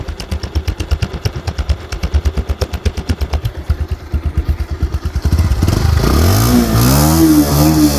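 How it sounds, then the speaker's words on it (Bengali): A low-mileage Bajaj Pulsar single-disc motorcycle idles close by with a rapid, even thumping. Then the engine is revved and rises into a loud, continuous roar. "এখন আমি যদি আপনাদেরকে বাইকটির সাউন্ড কোয়ালিটিটা দেখাই, দেখেন একদম নতুনের মতন স্মুথ সাউন্ড কোয়ালিটি"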